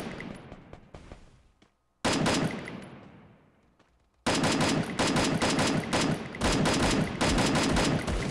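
Rapid bursts of automatic gunfire in the video game Free Fire crack loudly and repeatedly, with a short gap of quieter, fading shots before sustained firing resumes.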